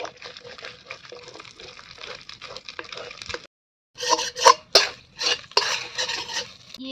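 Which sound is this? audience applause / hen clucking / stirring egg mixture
stirring egg mixture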